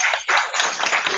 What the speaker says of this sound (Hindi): तालियां हमारे पास्टर साहब के लिए